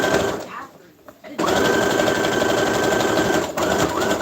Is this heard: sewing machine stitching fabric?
yes